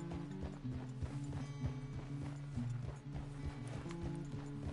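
Steady hollow clip-clop of horse hooves trotting at an even pace, fairly close, with a faint mechanical rattle beneath and no talking, in the video game Red Dead Redemption 2.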